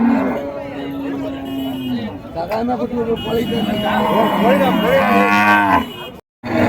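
Native breed cows low repeatedly at a busy cattle market in Uthangarai, loud and close, with a crowd chattering in the background.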